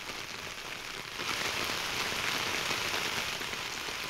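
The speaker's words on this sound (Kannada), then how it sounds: "ಮೈಸೂರಿನಲ್ಲೂ ಕೂಡ ಮಳೆ ಸುರಿತಾ ಇದೆ." Heavy rain pours steadily in Mysuru, a dense, even hiss of drops striking the ground that swells louder after the first second and keeps on without a break.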